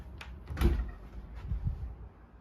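Standard wardrobe door in a dark hotel room being opened, a short creak and wooden knock followed by softer bumps and a faint rattle, close and quiet with no talking.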